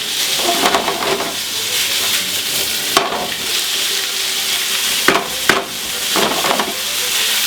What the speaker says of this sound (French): Maintenant l'ail et les oignons. On tourne. On fait ce tranquillement avec une légère coloration.